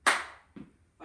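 Three sharp percussive hits from a PE workout rhythm: a loud click, then a softer clap, then a stomp, spaced about half a second apart, nearby with no talking.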